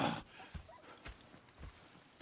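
Horses in the video game Red Dead Redemption 2 walking with a slow, even clip-clop of hooves, about two steps per second, close and moderately quiet.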